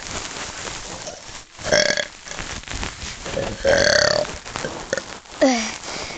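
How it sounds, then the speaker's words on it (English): A person lets out a big, loud burp in bursts, with several throaty belches standing out over a rough, noisy background. "Tell you that there's gonna be a big burp"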